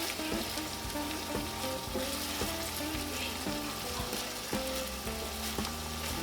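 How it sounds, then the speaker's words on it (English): Hamburger meat browns in a pan for shepherd's pie, sizzling loud and close in a dense, unbroken crackle, with stirring taps scattered through and a faint steady tonal hum behind. "we're going to continue to let our hamburger meat brown because this isn't done yet"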